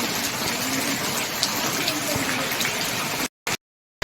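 Steady rain pours down, a dense continuous hiss of drops striking a surface nearby, with a brief dropout near the end.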